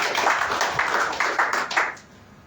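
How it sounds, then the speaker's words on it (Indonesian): Loud applause from a church congregation during a service, dense clapping with a few sharper bursts that fades toward the end. "Beri tepuk tangan yang meriah."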